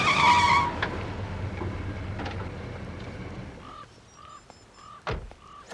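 A car speeds off with a brief, loud tire squeal at the start, then its engine drone fades into the distance while a crow caws a few times nearby.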